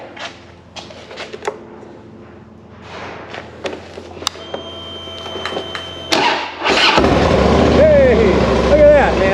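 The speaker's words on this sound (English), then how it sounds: "I want to start the motorcycles." Clicks and shuffling lead to a Harley-Davidson Night Train motorcycle engine cranking and catching, then a loud, steady idle with a whining tone, close by.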